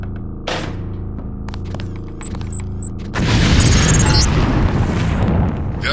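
A planted demolition lamp detonates in Deus Ex with a heavy, loud boom and a long, dense roar of debris that follows a few seconds of droning game ambience.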